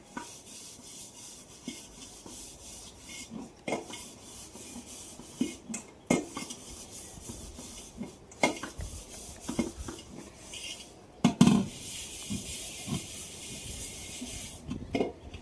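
Dishes and utensils are scrubbed by hand, giving repeated rubbing and scraping strokes with scattered clinks and knocks of metal pots, fairly close and moderately loud, with no talk.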